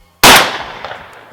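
A single sharp shotgun blast fired at starlings, very loud and close, with a sudden crack followed by a decaying outdoor echo.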